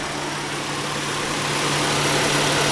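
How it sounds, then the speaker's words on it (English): A 2002 Subaru Outback's 3.0-litre H6 engine idles steadily and evenly with a smooth broadband hum and a faint constant whine, growing slightly louder toward the end. "Very nice engine. Got a great sound to it too"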